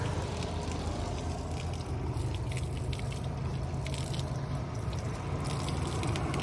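Cold mountain water in Himachal running and splashing steadily as it is collected, a constant rushing wash with no voices.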